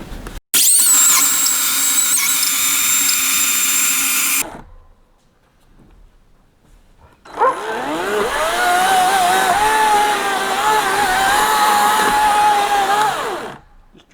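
Ego 18-inch 56V battery chainsaw milling wood: a loud, close, high electric whine for about four seconds, a short pause, then a longer straining cutting run with the bar buried in the wood.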